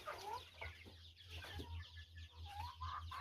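Chickens and chicks clucking and peeping around a pig and poultry farm, a busy overlapping chorus of short calls close by, with a low steady hum beneath.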